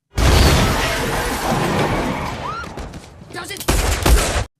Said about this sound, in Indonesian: tiba-tiba mereka diserang oleh mafia Rusia, dan naasnya Chang tertembak